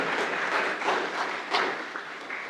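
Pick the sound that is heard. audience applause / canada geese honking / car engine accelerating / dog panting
audience applause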